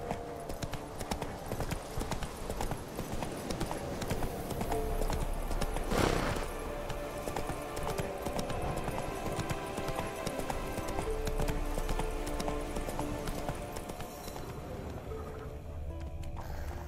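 In The Witcher 3, the horse gallops with steady rhythmic clip-clop hoofbeats throughout, moderately loud and continuous, with a faint whinny mixed in among game ambience.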